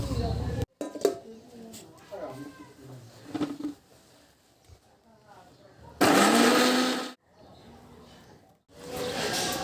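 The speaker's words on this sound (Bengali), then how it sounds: "একটু মশলাটা ব্লেন্ড করে দেবো মাকে।" An electric blender grinds spices and onions in a home kitchen, running in two loud bursts, a longer one at six seconds and another starting near the end, after a stretch of quieter talk and household sounds.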